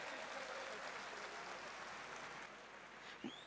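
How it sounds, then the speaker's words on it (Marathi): An audience at a Bhim Mahotsav stage show applauds for Mata Ramai, a continuous wash of clapping that eases slightly toward the end, ending with a brief thump. "मग जरा माता रमाईसाठी जोरदार हक्काच्या टाळ्या झाल्याच पाहिजेत."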